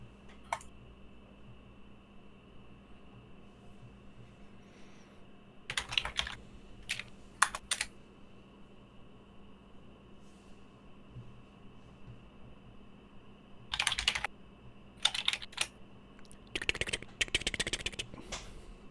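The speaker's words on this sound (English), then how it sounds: "I need a quieter keyboard, don't I?" A loud computer keyboard clatters in several separate bursts of rapid typing, close to the microphone, with quiet gaps and a steady hum between the bursts and no talk.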